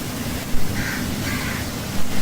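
A crow caws in two short calls outdoors beside a home kitchen where oily snacks are fried, faint over steady low background noise.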